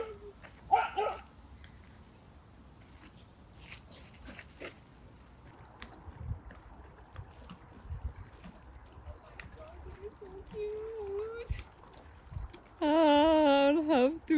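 Dino the dog barks in a few short bursts early on and gives yips and a whine later, fairly close, with quiet room noise and brief human sounds between.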